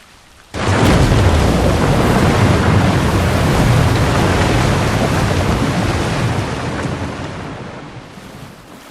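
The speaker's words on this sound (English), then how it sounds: "Water is spilling through the cracks here." Water from a crumbling rock wall in the Dragon's Dogma game bursts in suddenly and keeps up a loud, dense rushing roar for several seconds before slowly easing off.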